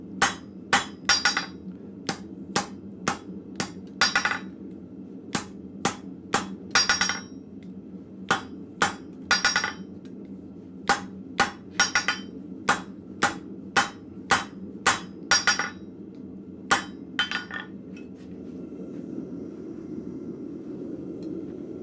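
A blacksmith hammers metal flat bit tongs to straighten them in a forge shop, with close, sharp ringing blows in a steady rhythm of small clusters over a constant background hum, with no talking.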